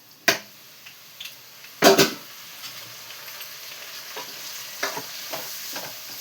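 Garlic and carrot frying in oil in a pan, a low steady sizzle broken by a few sharp clinks and scrapes of a spatula stirring, two of them loud near the start.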